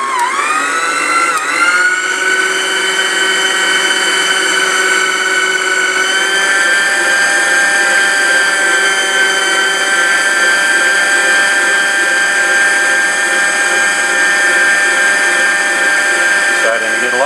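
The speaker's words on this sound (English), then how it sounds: "You can see it increase with each time the motor's asked to do more work." Electric motor churning homemade butter, a loud, steady high whine that climbs in pitch at the start as speed increases, then holds a strained, continuous drone close to the microphone throughout.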